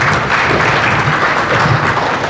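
An audience at a high-level dialogue on stopping the war on children applauds, a dense, loud, continuous clatter of many hands clapping close by for a couple of seconds, with no one speaking.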